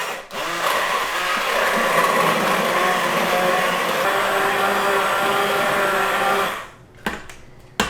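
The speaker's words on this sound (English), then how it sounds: "And then I have an immersion blender." An immersion blender purees broccoli soup with a loud, steady whir that runs for about six and a half seconds, then cuts off, leaving a few brief knocks and clatters.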